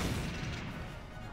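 A grenade blast in the Valkyria Chronicles video game, a dense, sustained roar of rumbling noise that fills the whole short moment, loud and close with no voices.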